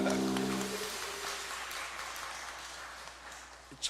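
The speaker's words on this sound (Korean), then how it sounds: "박수합시다." A church congregation applauds at the close of a hymn, a broad patter of clapping that rises as the music ends and then slowly fades.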